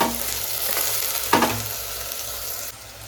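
Peas, potatoes and eggplant sizzle steadily in hot oil with a mustard seed and cumin tempering, with a sharp burst of louder frying partway through as they settle in, then a quieter sizzle near the end.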